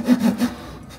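A hand saw cuts through a manufactured-wood cabinet panel in three quick, close rasping strokes, each stroke short and rhythmic, with no talk.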